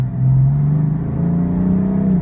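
A 2016 BMW M3 sedan pulling away hard from a stop sign, its engine note climbing steadily in a loud, close rev that rises and holds through the run, with no talk over it.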